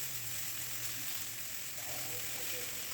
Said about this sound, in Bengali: আর আলুগুলো একটু হালকা ভেজে নিই